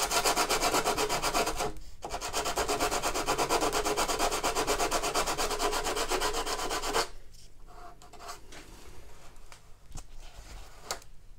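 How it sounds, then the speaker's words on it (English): Coarse wet and dry paper on a flat block rasps back and forth in fast, steady strokes along the plastic hull of a 1/200 Trumpeter Bismarck model ship, close and even for about seven seconds, then softer scattered rubbing. "using a flat block with some fairly coarse wet and dry on it, I'm just going to get that nice and straight all the way up"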